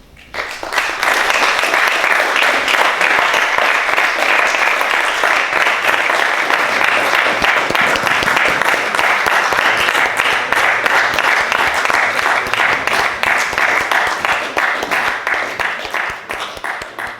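Sustained audience applause after a lecture on the life and work of the painter Eduardo Rosales, a dense, steady clapping from a full hall that holds loud for about fifteen seconds before starting to thin out.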